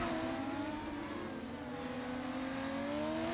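A Formula 1 car engine in a racing video game revs and whines continuously, its pitch rising and falling as it accelerates, steady and moderately loud.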